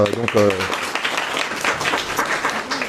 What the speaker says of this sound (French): d'ailleurs on applaudira très fort Léa